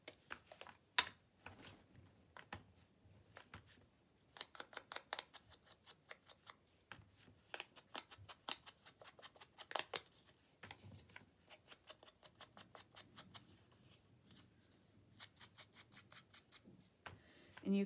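Scissors snipping off the paper edges of a handmade card with a stamped and inked tree image, a series of quiet, crisp cuts in short bursts with soft paper handling between them and no talk.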